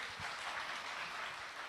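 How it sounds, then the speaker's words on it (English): Audience applause at the opening ceremony of a world humanities forum, a short, soft wash of clapping from a distant hall crowd. "Please give her a warm round of applause."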